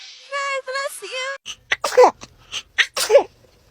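A baby sneezes sharply once after a few soft babbling sounds, followed by an adult voice talking close by in short bursts.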